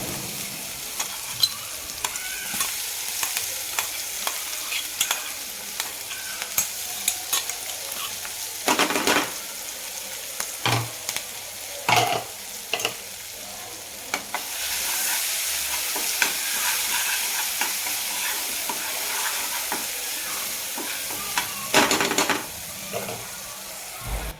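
Ginger-chili paste with turmeric fries in a pan for a Bihari samosa filling. A steady close sizzle runs throughout, with occasional clinks and scrapes of a spoon stirring, and the hiss grows louder partway through.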